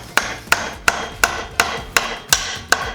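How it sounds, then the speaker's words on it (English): Eight crisp taps of a small hammer knock plastic spacer hood joints together on a solid surface, evenly spaced about every third of a second, close and sharp with short decays and no talk. "And then we are going to grab our little hammer here."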